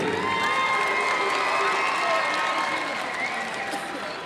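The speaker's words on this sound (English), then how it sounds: "let's give a big round of applause to Hannah Bonali." Crowd at a girls' championship basketball game claps and cheers loudly, with shouting and whoops over a broad roar of applause that fades slightly toward the end.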